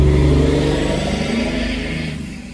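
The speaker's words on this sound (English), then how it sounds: "Sorry for the traffic noise." A car revs and roars past near a convenience store lot after a storm, loud at first and fading as it moves away, with a rumbling engine tone and no talk.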